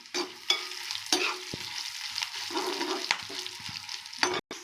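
Dried red chilies fried in oil and stirred, a close crackling sizzle broken by repeated scraping strokes of a spoon against the pan, with one sharp knock near the end.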